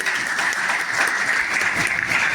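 An audience at a teacher-training orientation program in Pusa, Samastipur, Bihar gives itself a loud round of applause, a dense, steady wash of many hands clapping at once, close and sustained throughout with no talking.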